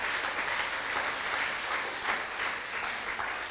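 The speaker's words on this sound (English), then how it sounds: "I want you to give him and his team a round of applause." Applause at a school bullying-prevention programme relaunch, a thick continuous roar of many hands clapping, steady and loud throughout with no voices over it.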